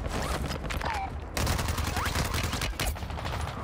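Rapid gunfire rattles through a first-person shooter match with a Demon TikTok meta loadout, bursts of shots running back to back at close range and briefly pausing, with voices underneath.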